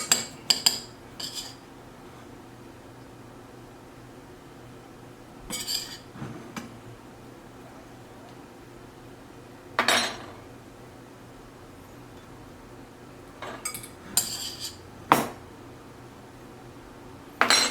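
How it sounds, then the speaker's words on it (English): A spoon clinking against a bowl or pan while scooping set cranberry topping onto muffins, in scattered short bursts separated by quiet gaps, close by, no talking. "We're going to spoon some of this over the top of each muffin."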